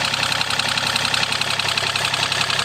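A Komatsu PC25 mini excavator's cold diesel engine idling steadily up close after a month unused, with an even, rough rumble and a faint knocking rhythm throughout.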